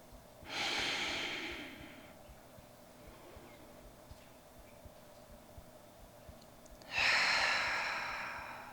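Two slow, deep breaths taken while holding a yoga pose, each a close, airy inhale-exhale, separated by several seconds of near silence.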